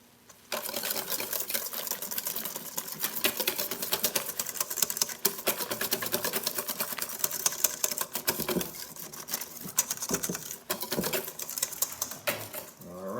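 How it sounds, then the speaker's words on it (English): A whisk beats flour into Guinness beer batter for fried cod, producing rapid, steady clattering and swishing against the bowl that runs almost without pause, fairly close, with a brief slowdown near the end. "Let's start whisking in some flour."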